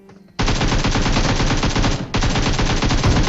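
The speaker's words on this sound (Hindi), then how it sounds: "मैंने ऑलरेडी प्री फायर किया बहुत तगड़ा वाला" Sustained automatic gunfire from a video game, a loud continuous burst of rapid shots that stops for a split second around the two-second mark and then resumes, with no talking.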